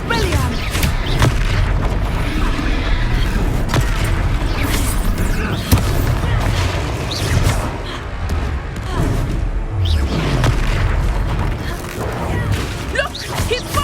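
A spell cast in Hogwarts Legacy wizard combat: loud booming blasts and crashing impacts over a dense, continuous battle din, with voices calling out now and then.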